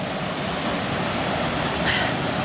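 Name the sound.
waterfall in Algonquin Park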